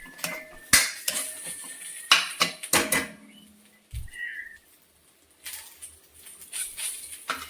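A metal ladle scraping and clanking against a kadai while thick masala paste is stirred, sharp irregular knocks and scrapes up close with quiet gaps between them.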